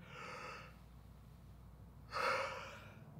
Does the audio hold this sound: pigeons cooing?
no